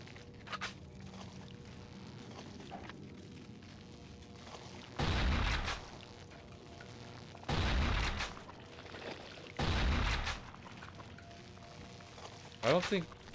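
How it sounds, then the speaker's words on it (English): Three loud, sustained bursts of gunfire from the survival horror game Cold Fear on PlayStation 2, each lasting around a second, over a low ambient in-game background. "I don't think gunfire is affecting this thing."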